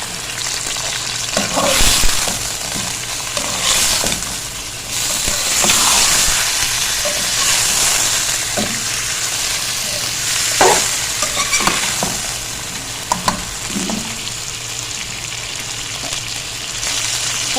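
Mutton fries in a pan at home, a continuous loud sizzle broken by repeated scraping and clinks as the meat is stirred and turned.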